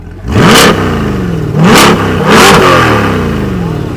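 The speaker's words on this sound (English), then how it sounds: "We'll give it a few little revs." A Corvette C8 sports car engine with a stock exhaust revs hard three times close by, each blip roaring up and falling back to a rumbling idle.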